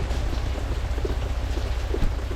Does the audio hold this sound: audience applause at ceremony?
no